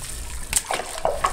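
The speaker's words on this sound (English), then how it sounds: "Rinse it out." Water splashing and sloshing as a pool pump basket is rinsed out, short bursts of splatter over a steady outdoor wash of flowing water, close and fairly loud.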